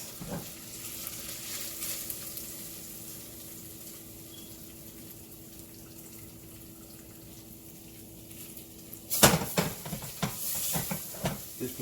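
Peppercorn bacon frying and rendering in a pot gives a steady soft sizzle and crackle, followed near the end by louder clattering and stirring bursts, close and without talk.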